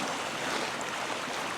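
Waves wash steadily onto a beach with the tide in, a continuous broadband surf rush with no distinct breaks, close and fairly even in level throughout.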